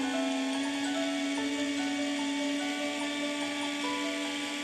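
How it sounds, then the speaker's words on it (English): A small drill whirs steadily with a high, tonal whine, boring a hole through thin baked polymer clay, running continuously and close up. "With the polymer clay baked, I drill a hole through the bottom"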